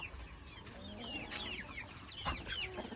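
Broiler chickens in a bucket give soft, scattered clucks and squawks close by, faint and intermittent over low background noise.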